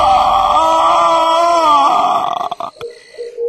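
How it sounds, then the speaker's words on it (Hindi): A man lets out a terrible, drawn-out scream as a horror sound effect, loud and wavering for about two seconds before breaking off into a few scattered clicks and thin tones. "और उसके साथ ही एक भयानक चीख उसके गले से निकल आई।"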